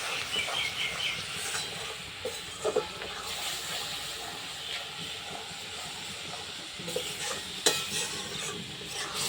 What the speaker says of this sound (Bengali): আবার নেড়ে নেব।